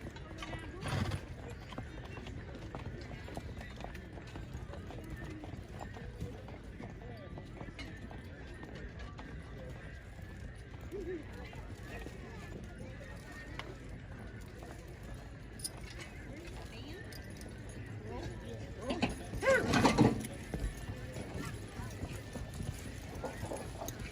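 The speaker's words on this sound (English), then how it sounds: "It's a big horse. Oh my gosh, those things are huge." Faint hoofbeats of a large draft horse clop slowly in the distance at a horse pull event, amid crowd murmur and chatter, with a louder burst of noise near the end.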